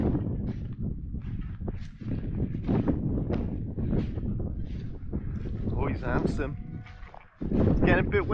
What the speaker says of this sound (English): It's getting a bit windy now, isn't it?